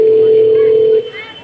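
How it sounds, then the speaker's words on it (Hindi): A telephone emits a steady, continuous dial tone for about a second, loud and close, then cuts off. "मैं अभी अपने बेटे को फोन करती हूँ"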